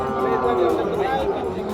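A carabao (water buffalo) at a livestock market lets out a low, drawn-out moo, close and fairly loud, with faint background chatter from the market.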